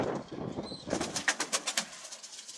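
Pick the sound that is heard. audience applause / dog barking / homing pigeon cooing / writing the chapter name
homing pigeon cooing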